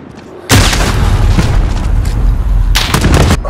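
Grenades burst in a Modern Warfare shooter match: a sudden loud boom followed by rumbling gunfire and a second blast cluster near the end, close and heavy.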